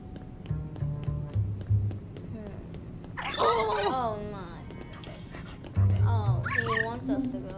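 In the video game Luigi's Mansion 3, a dog gives two bursts of high, whining yelps and whimpers a few seconds apart. They sound close and moderately loud, with game sounds and a person talking in between.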